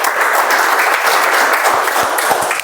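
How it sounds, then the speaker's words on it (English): A room full of people at a Toastmasters club meeting applauds, dense steady clapping filling the space without a break. "let's give a round of applause for everybody who did a good job"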